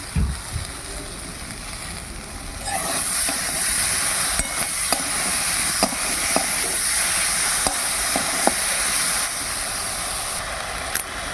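Amla pickle with sugar and jaggery cooking in a pan, a steady hiss of sizzling with a spatula scraping and tapping now and then, and a louder thump at the start.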